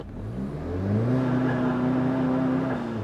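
Car with a 1.8T engine revving on launch control, the engine note climbing and then holding a steady, loud, buzzing drone close by, with no talking.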